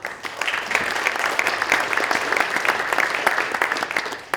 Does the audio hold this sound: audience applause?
yes